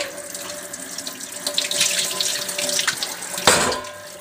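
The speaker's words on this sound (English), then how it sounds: "We just let the rinse water go." Rinse water running from a sink tap while dishes are washed, a steady splashing stream with clinks and a sharp splash near the end, close and alone.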